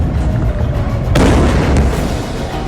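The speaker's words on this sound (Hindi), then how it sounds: "ये इराक, जॉर्डन और सीरिया के आसमान से गुजरी और हाइफा शहर पर टूट पड़ी" A missile launched from Iran strikes the city of Haifa in news footage: a sudden loud boom bursts in about halfway through over a constant rumbling background, followed by a brief second crack, with no talking.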